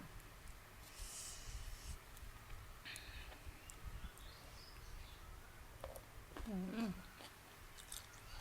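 Raw green mango eaten with Lao chili salt, chewed close up in soft, irregular crunchy bites, faint against a steady hiss of background noise with a brief chirp near the end.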